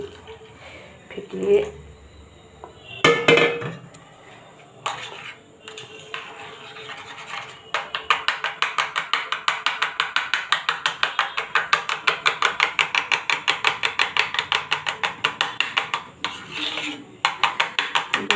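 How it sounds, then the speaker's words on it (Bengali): Yogurt being whisked with a splash of milk in a bowl, a quick run of fast, even scraping strokes that follow a few scattered clinks and scrapes, fairly close and moderately loud. "একটুখানি দইয়ের সাথে একটু দুধ মিলিয়ে আর একটু ফেটিয়ে"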